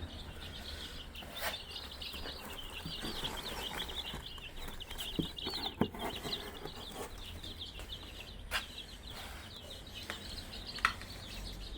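Many small chicks in a brooder cheep continuously in a dense, high chorus, with occasional louder peeps and soft shuffling against a low background hum.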